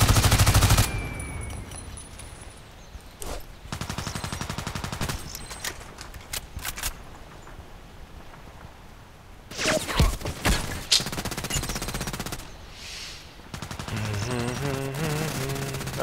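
Automatic gunfire in the online shooter Contract Wars, loud bursts and rapid fusillades separated by short quieter gaps across the clip, no talking.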